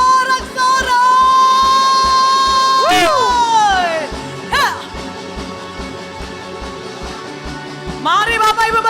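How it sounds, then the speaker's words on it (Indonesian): A church congregation at an online worship service cheers and shouts in praise, with sustained loud vocal whoops and a rising, wavering shout, plus sudden bursts of voices, over a steady rhythmic beat. "Mari kita berikan sorak-sorai."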